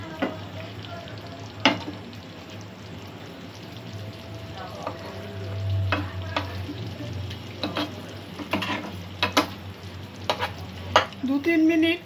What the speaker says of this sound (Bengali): দু 3 মিনিট সর্ষেটা দিয়ে ফুটিয়ে নেব একটু।